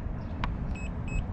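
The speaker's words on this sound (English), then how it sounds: "it has an alarm that lets you know it's been overloaded" Two short electronic beeps, high and thin, from a PECRON E2000LFP portable power station's overload alarm, sounding in quick succession over a steady low rumble.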